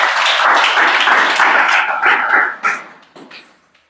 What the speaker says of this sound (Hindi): ताली बजाओ एक लिए